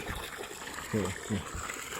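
Water flows from the two-inch outlet pipe of a solar-powered borehole pump, a steady soft trickling rush, with a brief low voice murmuring partway through.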